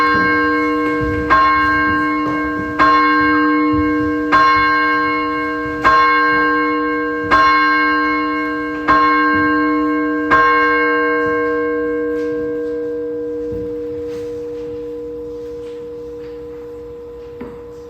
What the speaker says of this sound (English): Odin is going to ring the bell 8 times, and I encourage you to focus on the sound of the bell